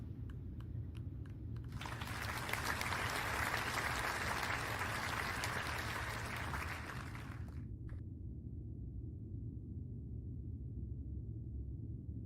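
Audience at a 2022 education symposium applauding to welcome a presenter, a steady wash of many hands lasting about six seconds before cutting off, then a quiet room hum with no talking.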